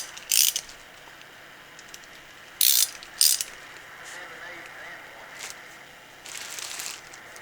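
A ratchet wrench fitted with a 3/8 to 1/4 inch adapter tightens bolts on a 2006 Jeep TJ A/C compressor, giving three short, sharp clicking bursts and a softer final run over a quiet background.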